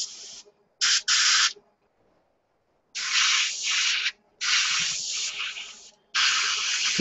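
Aerosol spray paint hissing in several bursts over a cardboard-covered workbench while painting a Tamiya 1:72 SU-34 model kit, with short sprays followed by longer steady passes, close and fairly loud.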